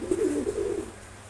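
Male Giribaz pigeon cooing close up, one short rolling coo that fades after about a second.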